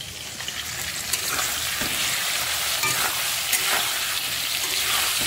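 Tomato fries in a pan with a continuous, fairly loud sizzle, punctuated by a few soft stirring clicks, with no one speaking.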